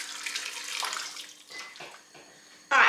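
Hot water poured from a kettle into a pot of salted water while cooking spaghetti for Greek meatballs, a gurgling splash that fades, then ends with a short loud gush.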